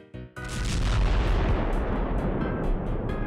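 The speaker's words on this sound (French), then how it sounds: "Et il a eu une explosion à la place." A cartoonish explosion, loud and close, with a sharp initial burst followed by a sustained, rumbling roar that carries on for several seconds without fading.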